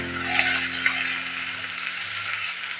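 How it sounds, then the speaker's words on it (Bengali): Okra and potato fry steadily in a pan, a continuous close sizzle with a couple of faint scrapes as the vegetables are stirred, no voices. "নাড়াচাড়া করে ভাজি করে নিতে হবে"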